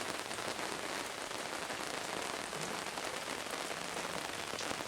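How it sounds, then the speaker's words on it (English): Steady late-fall rain pours down on a surface through the night, a dense, even hiss of drops with no pauses, fairly close and constant throughout. "Listening to the rain all night"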